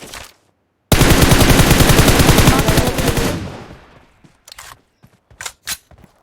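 Gunfire rings out in the PUBG video game on the Livik map, starting with a loud, rapid automatic burst that lasts about three seconds and fades. A few scattered single shots and bursts follow.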